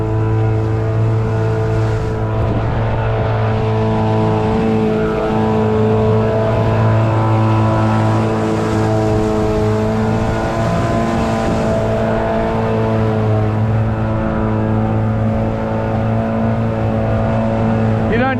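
A small 6.5 horsepower outboard engine runs steadily on a boat at sea, a loud, constant droning hum with strong harmonics that holds throughout, with a voice talking over it.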